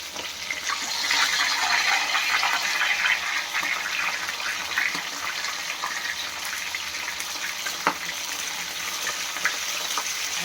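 Fried hilsa fish pieces go into a pan of mustard gravy on a low gas flame, giving a steady close sizzle with stirring scrapes and a couple of faint clinks throughout.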